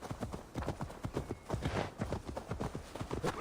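Horse hooves clip-clop in a brisk, steady trot in Assassin's Creed Valhalla, the beats close and clear, with a faint game ambience behind them.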